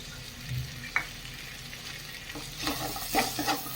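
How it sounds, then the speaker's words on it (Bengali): Banana flower curry being stirred in a pan after chili powder goes in, with a faint sizzle throughout and a few scraping spoon strokes, the louder ones near the end. "দিয়ে ভালো করে নাড়াচাড়া করে নেব।"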